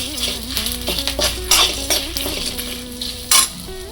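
Chana dal and tamarind sizzle in a hot pan while a spoon stirs, making repeated scraping and clinking strokes over a close, steady frying hiss.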